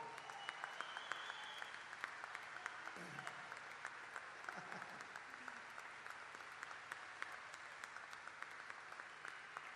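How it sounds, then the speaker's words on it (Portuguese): Concert audience applauding the band at a 2014 Oporto show, a steady, fairly distant wash of clapping with a faint voice or two underneath, continuous for the whole stretch. "uma salva de palmas para ele"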